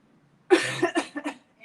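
A person coughs several times in a quick, forceful burst to clear the lungs during a breathing exercise, close and loud, with short gaps between coughs.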